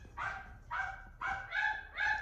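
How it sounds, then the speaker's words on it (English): Several dogs bark in repeated bursts, five sharp barks spaced about half a second apart, close and fairly loud over a low background rumble, with no talking. "there's a lot of dog barking going on right now"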